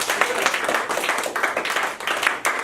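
A comedy show audience breaks into applause and noisy cheering, a dense wash of clapping and shouts from a crowd that swells and dips over a few seconds, filling the room.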